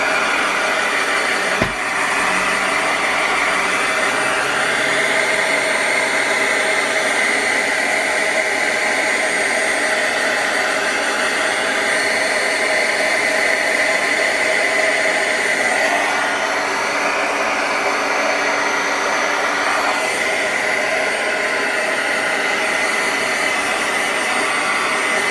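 A heat tool blows continuously while drying a mixed media canvas, a loud, steady whooshing roar held close for the whole stretch, slightly shifting in tone as it moves, with one brief knock early on and no talking.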